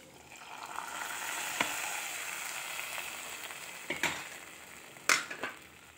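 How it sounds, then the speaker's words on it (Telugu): Hot tempering is tipped into simmering raw-mango rasam, making a soft hissing sizzle that swells, then sharp clatters and splashes as the pan meets the pot, with quieter bubbling between. "అది మరుగుతూ ఉన్నప్పుడు ఈ పోపుని తీసుకెళ్ళి దాంట్లో ఈ రసంలోకి ఈ పోపు వేసేద్దామండి"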